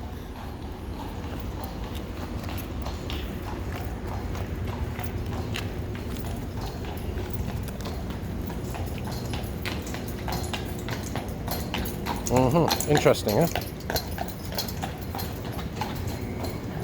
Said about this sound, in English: We got a horse coming by here, just like the old days.